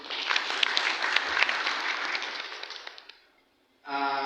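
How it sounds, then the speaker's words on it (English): Applause from a small invited audience at a community event, a dense wash of many hands clapping for about three seconds before fading out. "Can we clap ourselves, please?"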